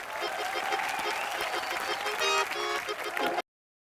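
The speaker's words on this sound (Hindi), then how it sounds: "जोरदार तालियों से स्वागत कीजिए मुबीन एंड दीपिका" A studio audience at a Colors TV comedy show applauds in dense, sustained clapping, with musical tones rising partway through before an abrupt cut to silence.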